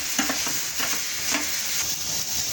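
Tomatoes are stirred and sautéed into a masala for modak aamti, a continuous hiss of frying broken by repeated soft scraping strokes of a spoon in the pan, close and with no voices.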